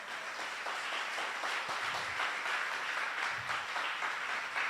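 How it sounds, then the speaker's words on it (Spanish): Steady crowd applause from a congregation at a Spanish-language church service fills the whole stretch, a dense wash of clapping at even loudness with no pauses. "Denle un aplauso fuerte al Señor."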